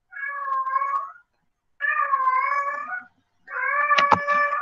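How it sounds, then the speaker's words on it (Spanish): A pet female cat meows in three drawn-out, tonal calls, each about a second long, separated by short pauses, fairly close and clear against a quiet room, with a brief knock during the last call. "El sonido de fondo que es mi gata cantando."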